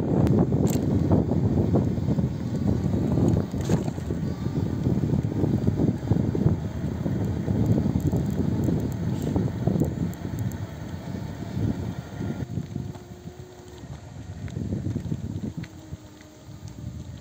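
Strong wind buffets the microphone while someone drives along a village road, a steady, close, rushing roar that eases a little toward the end.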